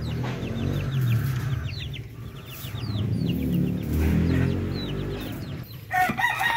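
Month-old chicks, including an upgraded native chick bred from a Chocolate Orpington, cheep in rapid high chirps up close while clucks and a rooster's crow carry from nearby fowl, with no talk.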